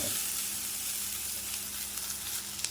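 Onions frying in a pan for a simple potato fry dish, with a steady, continuous sizzle throughout and faint stirring scrapes near the end, heard alone without talk.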